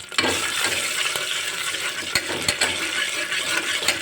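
Garlic paste sizzles in hot oil in a pressure cooker while a spoon stirs it, giving a steady frying hiss broken by sharp metallic scrapes and clinks against the pot.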